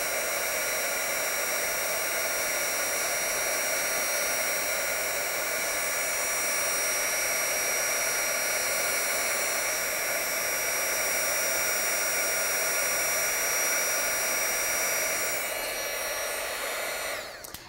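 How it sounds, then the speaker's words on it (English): A heat embossing tool blows hot air over a stamped card, giving a loud, steady whooshing whine like a hair dryer that runs without pause and drops off abruptly at the end. "I'm going to slowly move the heat tool."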